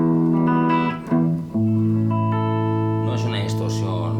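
Electric guitar played through a Harley Benton Tube 15 valve amp head with the gain turned up gives sustained, slightly gritty notes and chords, ringing out with a louder strummed passage toward the end.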